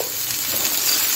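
Shrimp and thankuni leaves fry in a pan with a steady, close sizzle and faint crackle that runs unbroken through the short moment, with no voices.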